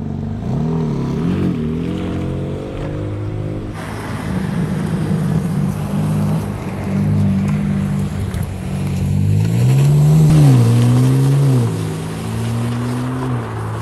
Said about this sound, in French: rien ne remplacera le 6 cylindres en ligne BMW